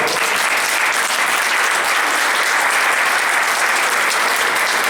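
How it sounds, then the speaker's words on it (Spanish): A church congregation applauds during a sermon, loud, dense and steady clapping that fills the whole stretch without letup. "Vamos a dar un aplauso al Señor"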